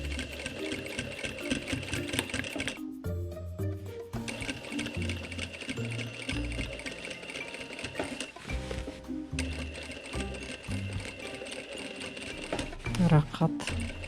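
A sewing machine stitches an appliqué embroidery patch onto clothing, running in fast mechanical bursts with brief stops in between, close and steady throughout.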